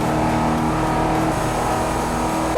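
A Ford Crown Victoria police car accelerating in GTA5, its engine roaring loud and steady at high revs throughout, close and unbroken with no talk.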